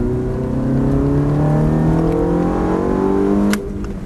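Ferrari F430 accelerating on the Lohéac race track, a loud, close engine note climbing steadily in pitch with rising harmonics, then easing off abruptly near the end, with no talking.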